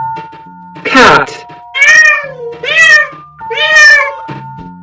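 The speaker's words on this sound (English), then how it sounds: "Cat." A domestic cat meows four times in a row, loud and close, with drawn-out, rising and falling cries spaced about a second apart against a quiet background.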